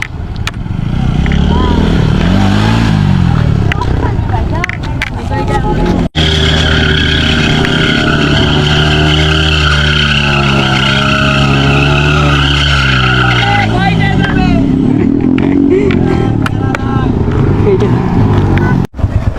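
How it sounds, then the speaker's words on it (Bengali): A motorcycle drifts during freestyle bike stunts, its engine revving loud and close while the tires skid and squeal in long sweeping bursts, with voices faintly mixed in. "Drifting check, gang."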